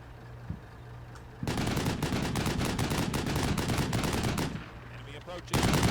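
Gunfire in the video game Combat Mission: Shock Force 2, a long burst of dense rapid shots and machine-gun fire that starts abruptly, rattles loudly for about three seconds, pauses, then resumes.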